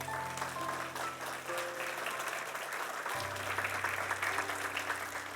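A church congregation at a Spanish-language service claps together in a steady, moderately loud burst of applause, with sustained instrumental tones humming softly underneath.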